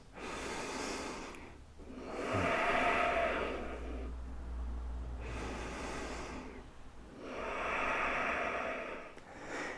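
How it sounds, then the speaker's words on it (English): Slow, deep breathing during a yoga class, long audible inhales and exhales in a steady cycle, close and fairly soft, with no talking. "Deep breaths."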